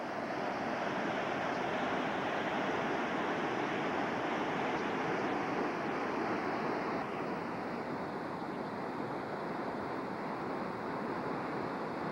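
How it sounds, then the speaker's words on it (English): The floodwater of Tonawanda Creek, swollen into a raging river, rushes by in a steady loud broadband roar that holds without a break. "This is our little raging river."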